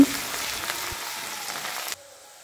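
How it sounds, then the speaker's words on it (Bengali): Crushed garlic frying lightly in oil gives a close, steady sizzle that cuts off abruptly near the end, leaving a quiet hum. "রসুনটা ভাজা হয়ে গেছে"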